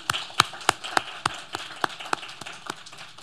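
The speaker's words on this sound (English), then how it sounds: "So please, a round of applause." Scattered hand claps from an audience at a university scholars' final project presentation, a sparse, fairly even run of sharp individual claps rather than a full roar of applause.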